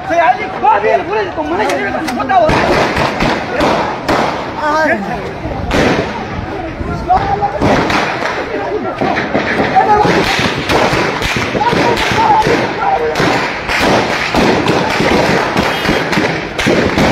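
Gunfire rings out at a street chowk in Gilgit city. Many sharp, rapid cracks and bangs come in irregular bursts throughout, loud and close, mixed with crowd chatter and excited voices.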